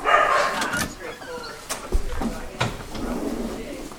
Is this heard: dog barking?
yes